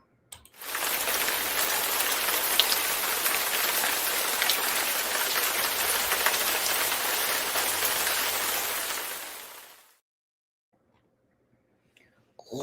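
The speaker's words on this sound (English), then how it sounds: "It's raining." Steady, loud rain hisses continuously for about nine seconds, then stops abruptly, leaving near silence with a few faint sounds at the end.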